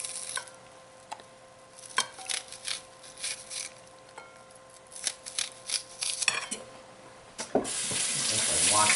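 A kitchen tap runs while bell peppers are washed under it, a soft steady trickle broken by uneven splashes and handling knocks, building to a louder gush of water at the end.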